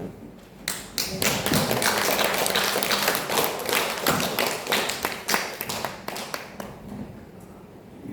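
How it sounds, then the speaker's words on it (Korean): A church congregation at a Korean Presbyterian service claps to welcome the pastor to the pulpit, a dense burst of applause that swells quickly, stays full for several seconds, then thins out into scattered claps. "여러분 할렐루야로 박수로 환영해 주시기 바랍니다"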